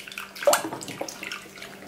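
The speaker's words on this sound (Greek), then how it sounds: "Ξεπλύναμε το καρυδάκι μας 4 φορές" Young green walnuts are rinsed by hand in a large basin of cold water, bringing close splashes and sloshing, with one sharper splash near the middle and lighter swishes after it.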